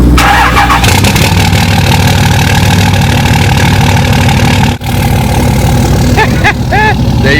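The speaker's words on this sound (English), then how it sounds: "let's fire up the Cummins." A Cummins diesel engine cold-starts, cranking briefly before catching into a loud, steady rumbling idle with a moment of revving, heard close and alone.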